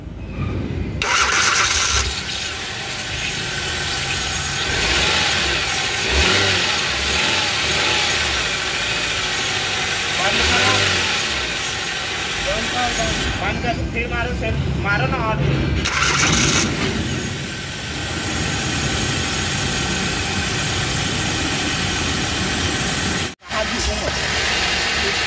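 A Hyundai i20 petrol car, with a temporarily rejoined crank sensor after cranking without starting, fires up and settles into a steady idle. People talk nearby, and the sound cuts out briefly near the end.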